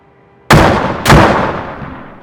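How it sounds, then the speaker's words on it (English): Armored vehicle cannon firing in the ARMA 2 video game: two loud, sharp blasts about half a second apart, each followed by a long rumbling decay with no talk. "The cannon can be loaded with AP rounds also."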